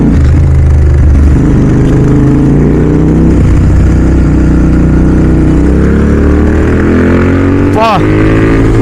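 A Royal Enfield GT650 motorcycle fitted with a Red Rooster exhaust rumbles loudly and steadily close by, its deep exhaust note swelling with revs near the end.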